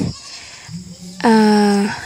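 Goats at feeding time on a rural farm: after a quiet stretch, one goat lets out a loud, close, wavering bleat that lasts under a second.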